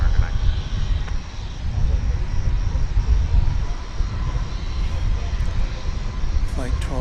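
Airliner operating Flight 12 from Haneda after a trans-Pacific crossing, rumbling steadily at the airport as a broad, continuous roar that fills the whole stretch, with voices speaking over it.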